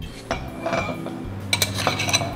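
Hot sapo tahu is spooned into a thermos food jar with a series of light metallic clinks and scrapes of a utensil against the container, close by and quiet, with no talking.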